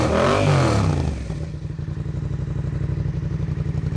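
A motorcycle engine exhaust fitted with a fiberglass-mat-packed baffle blips loudly, then settles into a throbbing, slightly clattery idle, close and alone.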